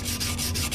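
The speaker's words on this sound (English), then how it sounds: "I'm going to take the sanding stick and go around this whole thing again with some 600 paper" Sanding stick with 600-grit paper worked over a motorcycle front wheel during a Ninja restoration, ahead of priming: a close, steady dry rasping with rhythmic back-and-forth strokes and brief pauses between passes.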